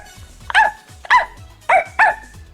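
A woman imitates a dog barking with her voice, giving four loud, close barks in two pairs, each sharp and pitched like a small-to-medium dog, with brief pauses between them.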